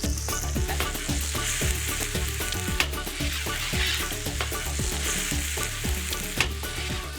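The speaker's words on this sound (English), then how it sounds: "Once the sofrito is fragrant and beginning to brown," Bomba rice fries in browned, fragrant sofrito for paella, a dense steady sizzle with frequent crackles and stirring scrapes. The sound is close and continuous, with no voices.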